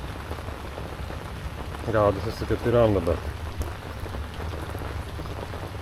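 Rain falls steadily on a carp fishing spot in Thailand, a constant close patter across the whole stretch while someone speaks briefly in the middle.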